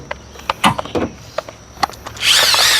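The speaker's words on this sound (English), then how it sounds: "Power tools." Cordless power tool used during an automotive evaporator core replacement, several short bursts of whirring followed by a louder sustained run at the end.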